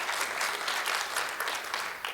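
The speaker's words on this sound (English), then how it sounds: "So round of applause for that," Audience applause at a conference on animal shelter coalition building, a brief, dense burst of clapping from a crowd that holds steady for a couple of seconds.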